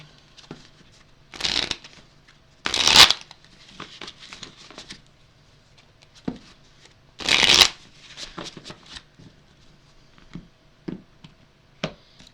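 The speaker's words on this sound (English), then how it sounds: "Let me give each of these decks a couple shuffles" Tarot card decks being shuffled by hand, with several loud riffling bursts separated by pauses and softer taps and handling of the cards, close up and with no talking.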